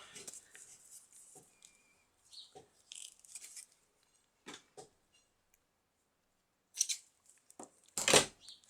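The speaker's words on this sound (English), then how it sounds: "Scissors." Scissors snip paper while pages are made for a Christmas mini album, a few short, crisp cuts spaced out with quiet gaps between them, close and fairly soft, ending in a louder rustle.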